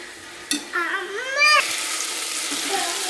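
Ginger-garlic paste sautéing in a pan for egg biryani, a sharp sizzle erupting as it hits the oil, with stirring scrapes and a faint voice in the background.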